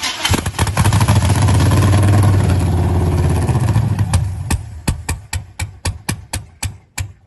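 An engine on a project vehicle plagued by dead cylinders roars loudly for several seconds, then fades into a series of evenly spaced sharp clacks as it winds down, close and prominent.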